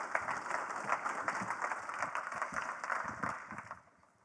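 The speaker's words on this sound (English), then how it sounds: "Give her a clap." An audience at a tech industry talk gives a speaker a dense round of applause: many overlapping claps at a fairly distant, moderate level that thin out and fade at the end.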